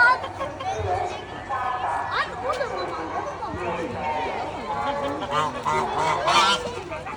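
Geese honk repeatedly at a mid distance amid a busy outdoor zoo scene, with people chatting over the calls.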